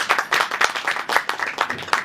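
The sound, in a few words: audience applause at film trailer launch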